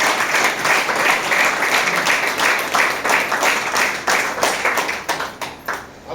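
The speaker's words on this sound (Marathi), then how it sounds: "त्यासाठी एकदा जोरदार टाळ्या सर आणि मॅडम." Steady, enthusiastic clapping from a seminar audience fills the room for several seconds, a dense patter of many hands that tapers slightly toward the end.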